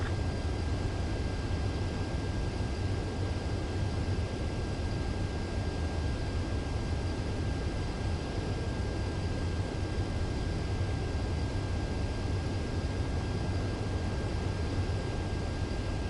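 Jet aircraft engine in Ace Combat 7, held on a steady, loud, unbroken roar throughout the landing approach with no change in pitch.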